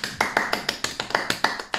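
A few people clapping hands in a room, giving about a dozen sharp, evenly spaced claps at a quick steady pace.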